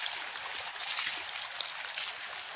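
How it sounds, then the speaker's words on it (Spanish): Water rushing and splashing during an outdoor challenge, a steady broadband hiss that stays loud and even throughout, with no clear voices. "Que el agua ahí va, el agua ahí va."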